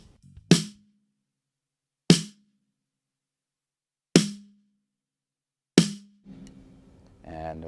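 Four crisp snare drum hits ring out alone at uneven intervals, picked up by a top microphone aimed toward the center of the snare, each sharp and close with a short decay, followed by faint talking at the end.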